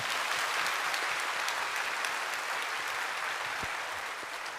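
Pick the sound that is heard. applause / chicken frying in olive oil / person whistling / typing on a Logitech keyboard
applause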